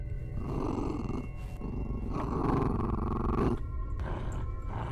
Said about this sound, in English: the sound of Roxy growling directly in front of me.